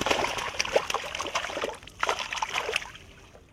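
Water from a solar-pumped well splashes and gurgles into a coconut farm field, a continuous close trickling and splattering stream that varies slightly in strength.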